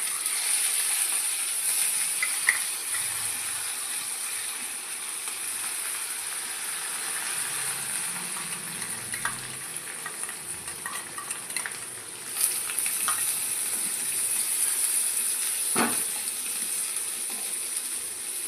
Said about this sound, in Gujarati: હવે આપણે આ લસણ વઘારમાં નાખીએ, એનાથી છે ને સુગંધ સારી આવશે એકદમ.